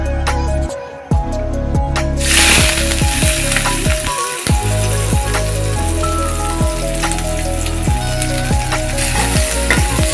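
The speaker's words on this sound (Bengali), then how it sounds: "পরিমাণ মতো তেল দিয়ে দিলাম, পেঁয়াজ এবং রসুন কুচি দিয়ে দিলাম" Chopped onion and garlic hit hot oil in a pan and sizzle loudly and steadily, with intermittent scraping and clinking of a utensil stirring through the mix; a short quieter moment comes before the frying swells up.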